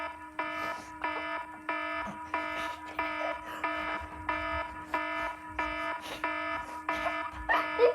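The iPhone Alarm ringtone, a bright electronic pulse repeating in a steady rapid rhythm of short bursts, heard at moderate distance indoors over faint background noise.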